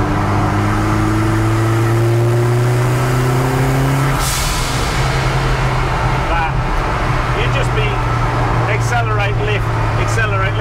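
A 300hp ZCars Hillman Imp with a 16v turbo engine pulls hard on a bumpy road, its engine note rising steadily before a lift-off, then settling into a droning cruise while people talk over it.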